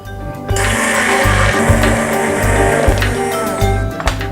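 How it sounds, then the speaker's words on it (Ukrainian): Blender running steadily while whipping homemade mayonnaise, a loud continuous motor whine with rhythmic pulsing thumps from the blade churning the thick mixture, close by, starting abruptly after a short quiet moment. "збити все разом спочатку за допомогою блендера"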